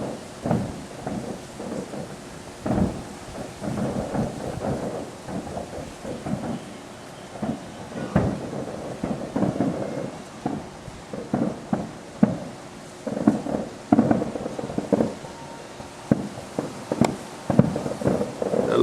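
Fireworks boom at Turtle Bay on an October night, a long run of irregular, rumbling blasts from a distance that overlap into a continuous crackling barrage, with no voices.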